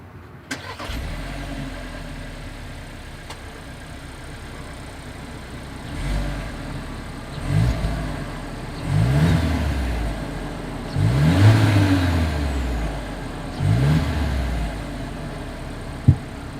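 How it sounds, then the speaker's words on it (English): A 2022 Volkswagen Taos idles quietly, then its exhaust revs up in several sharp bursts, each rising and falling back, with a brief pop near the end. "As always, here is that exhaust clip."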